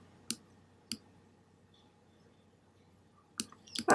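Computer keyboard arrow keys pressed to resize a Cricut teapot card design, a few sharp separate taps with a quick cluster at the end, close and clear against a quiet room.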